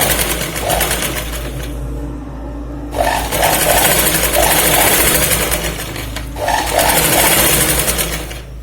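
Sewing machine stitching the side seam of a katori blouse in two close lines, a loud nearby motor whirring in fast bursts, pausing briefly between runs and starting again, with no talking.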